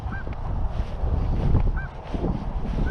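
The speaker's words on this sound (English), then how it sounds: "I got a couple more geese still down here." Several geese honk in short bursts at mid distance beside water while fishing, over steady wind and low rumble; no one speaks.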